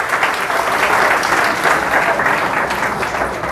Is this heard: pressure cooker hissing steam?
no